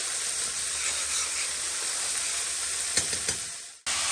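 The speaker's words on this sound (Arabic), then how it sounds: "بدت عندنا الدجاج يعني بدا يحمر عندي" Chicken pieces browning in a hot pan give a loud, continuous sizzle and hiss, with a few sharper crackles near the end before a brief cut.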